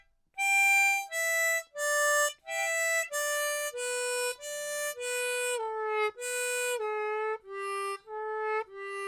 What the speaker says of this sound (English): We're going to play 3 notes down.